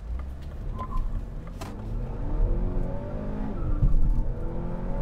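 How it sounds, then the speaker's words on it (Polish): Mini Cooper S engine in go-kart driving mode, downshifting to hold higher revs, heard as a rising and falling engine note from inside the moving car, with gear changes and revving building toward the end. "Już inaczej silniczek zaczyna reagować, bo sobie redukuje bieg tak, żeby utrzymywać silnik na wyższych obrotach."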